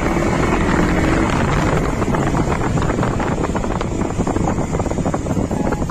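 A KTM Duke 200 motorcycle rides along, its engine a steady droning roar blended with heavy wind rush across the microphone, constant and loud throughout with no talking.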